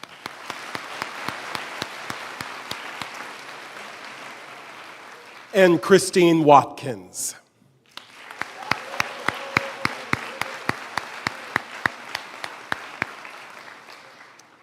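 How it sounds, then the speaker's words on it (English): An audience at a school awards night breaks into sustained applause, a dense wash of clapping heard twice, interrupted in the middle by a brief spoken announcement and a short pause. "Let's applaud."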